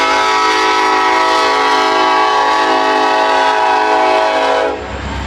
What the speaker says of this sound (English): as soon as I got out, the train started passing by